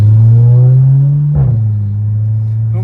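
A Cupra Leon engine drones loud and close at steady revs, with a short sharp blip and dip midway as the throttle changes, then settles back into a lower rumble.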